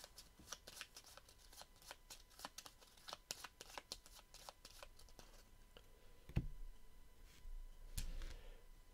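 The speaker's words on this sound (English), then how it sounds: "This gets shuffled." A deck of cards is shuffled during a solo play session of the fly-fishing board game Freshwater Fly: quick crisp riffling flicks repeat for about six seconds, then a couple of soft thumps as the cards are squared, close and fairly quiet.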